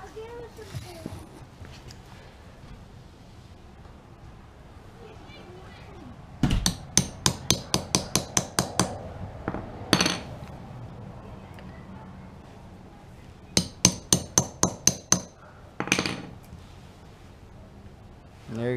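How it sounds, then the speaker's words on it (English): A hammer taps a seal into place on a Polaris Outlaw 500 ATV, landing as two quick series of sharp, evenly spaced metallic taps plus a few heavier single knocks, with a low voice murmuring underneath. "Just gonna get a little love tapperoni with the hammer."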